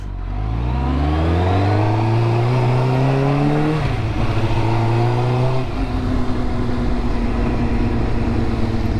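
A motorcycle engine revs hard while riding, pitch climbing steadily through a gear, dropping at a shift, then climbing again and holding a steady drone, loud and close with wind rush.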